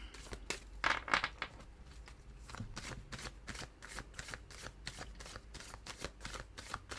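Tarot cards are shuffled over and over close up, a quick riffling and soft papery flicking in repeated bursts.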